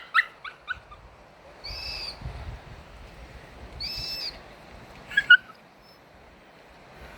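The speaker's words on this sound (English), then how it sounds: "The cockatoos nearby. These black cockatoos." Black cockatoos calling close by in the open: two drawn-out, wailing cries a couple of seconds apart, with a few short, sharper notes at the start and a brief burst near the end, over quiet background.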